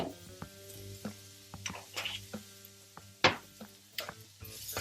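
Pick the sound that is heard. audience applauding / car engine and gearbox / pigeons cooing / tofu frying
tofu frying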